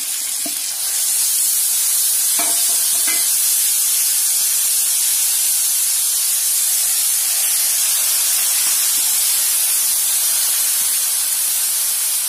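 Ground coconut, sesame and peanut paste hitting a hot pan of tempering for Maharashtrian bhogi bhaji: a loud, steady hiss like steam or spray that holds evenly with no talk.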